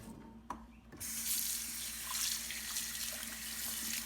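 Hot water pours steadily out of a still-hot Le Creuset enameled pot into a sink, a close continuous splashing gush starting after a few soft clicks of handling.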